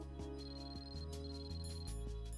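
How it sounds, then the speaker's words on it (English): A cell phone ringtone in the video game Metal Gear Solid 2 plays loud and continuous, a repeating electronic melody with shifting tones over a steady sustained layer. "Of course I'm getting a cell phone ring."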